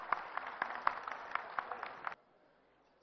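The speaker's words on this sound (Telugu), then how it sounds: "ఒకసారి గట్టిగా చప్పట్లు కొడదాం అందరం." An audience at a Telugu film anniversary celebration for Sobhan Babu claps together in steady, fairly faint applause that lasts about two seconds and then stops abruptly, leaving near silence.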